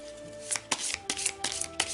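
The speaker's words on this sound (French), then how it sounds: "je vais tirer une petite carte de l'oracle de Steph," Oracle cards are shuffled and drawn from a deck in a few quick, crisp riffles and flicks close by, set against a faint tonal hum.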